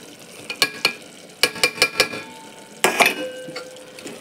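Tomato and ground spices (biryani masala, coriander powder, turmeric, pepper and cumin) stirred in a hot pan, with sharp spoon scrapes and clinks in small clusters over a steady, close sizzle, and no talking.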